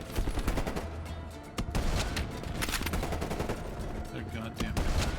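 Rapid automatic gunfire from the video game Call of Duty: Black Ops Cold War, dense bursts of shots crackling nearly continuously and loud throughout, with brief breaks between volleys and game noise mixed in.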